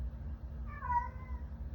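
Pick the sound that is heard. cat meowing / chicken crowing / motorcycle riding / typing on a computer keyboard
cat meowing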